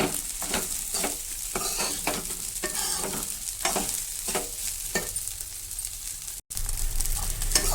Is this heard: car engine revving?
no